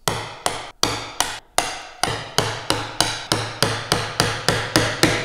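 A mallet strikes a mortise chisel while a through mortise is chopped by hand in wood, about fifteen sharp, close blows at a steady, quickening rhythm.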